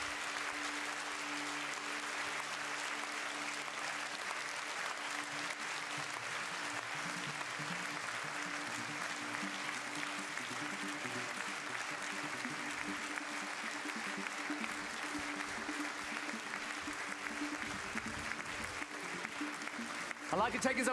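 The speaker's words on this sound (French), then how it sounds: "another big round of applause for all of our winners" Sustained audience applause for award winners at the 2018 European Inventor Award ceremony, a broad, even roar of many hands clapping that continues for about twenty seconds, with a voice faintly audible beneath it.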